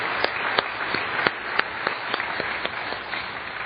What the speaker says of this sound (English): how about we show our appreciation with applause